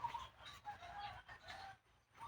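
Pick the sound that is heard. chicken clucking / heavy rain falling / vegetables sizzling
chicken clucking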